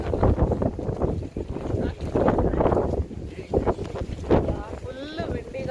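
Strong wind buffets the microphone outdoors in Oia, Santorini, with loud, continuous gusty rumble and roar throughout, mixed with voices talking over it.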